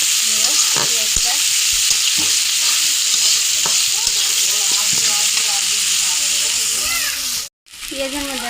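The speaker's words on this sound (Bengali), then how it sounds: "এখন ভালো করে একটু নাড়াচাড়া দিয়ে ভাজা করে নিব পেঁয়াজটা" Sliced onion sizzling in a hot pan while being stirred, a bright constant hiss broken by repeated scraping spatula strokes, close and loud, with a brief dropout near the end; a voice speaks faintly underneath.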